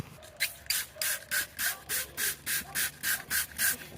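Cleaner is rubbed into a stained car ceiling headliner, heard as a steady run of about a dozen evenly spaced scrubbing strokes, close and fairly loud, with no talk.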